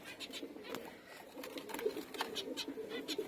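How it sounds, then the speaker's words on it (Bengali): Pet zebra finches give soft, rapid chirps and short nasal calls in quick, uneven succession, heard faintly at close range over a quiet background. "এই যে আমার যেই ফিন্স, জ্যাব্রা ফিন্স পাখিগুলো আছে"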